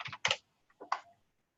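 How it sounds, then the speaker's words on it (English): Keystrokes on a computer keyboard during a live online class session, a few quick taps in two short bursts with a brief pause between, close and fairly clear. "I'm typing"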